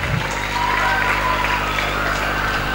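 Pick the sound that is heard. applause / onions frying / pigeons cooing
applause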